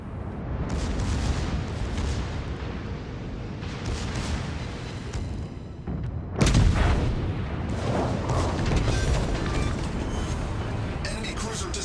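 Naval gunfire and a deep explosive boom sound as an enemy cruiser is destroyed in World of Warships: Legends, with a heavy rumbling blast partway through and continuous battle noise throughout.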